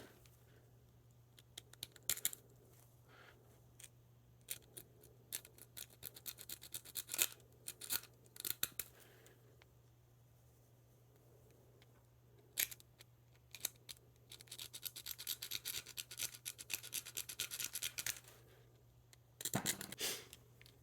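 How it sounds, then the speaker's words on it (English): A small file rasps in short bursts against a rivet on a Spyderco Manix 2 knife handle, quiet and close. Scratching strokes come in clusters separated by pauses, over a low steady hum. "take this small file and work my way around this rivet"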